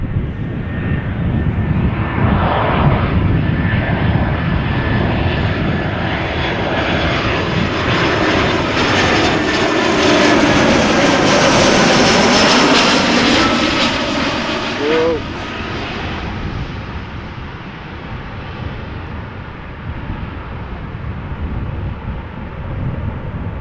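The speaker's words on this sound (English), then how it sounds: "A320 Air Arabia, operated by Air Arabia Maroc," An Air Arabia Maroc Airbus A320, arriving from Tangier, comes in to land at Amsterdam Schiphol, its jet engine roar swelling as it nears, peaking overhead, then slowly fading away, with a falling whine as it passes.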